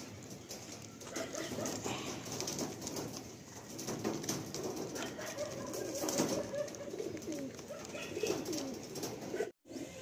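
A released pair of Madrasi pigeons, female then male, gives soft repeated coos and flutters its wings as it takes off, close by against a busy low background of ambient noise.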